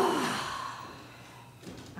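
A single quick, sharp inhale sounds close and breathy at the start, tapering off into quiet, with a faint soft breath near the end.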